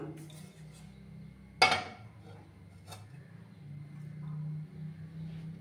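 A pan set down on a gas stove gives one sharp metallic clank over a low steady hum, followed by softer faint knocks.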